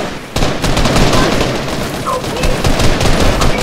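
Dense, loud Fortnite gunfire, rapid automatic bursts and cracks running almost continuously with booming hits layered over them, close and intense throughout.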